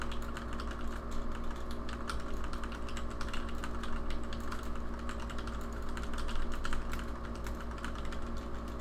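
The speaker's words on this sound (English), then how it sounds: "one second, I'm typing some." Steady typing on a computer keyboard goes on throughout, with continuous close clicking over a constant background hum and no voices.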